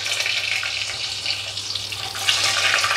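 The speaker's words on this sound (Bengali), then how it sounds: "এবারে আমি ডিমগুলো একটু ভেজে নেব হালকা লাল" Eggs frying lightly in hot oil in a home kitchen, a steady close crackling sizzle filling the whole stretch with small bursts and spits, no voices.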